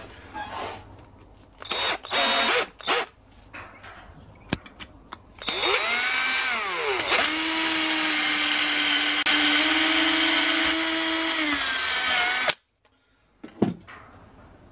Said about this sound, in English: now I'm going to go through the 1/8 drill and we'll open that up ready for our pin punch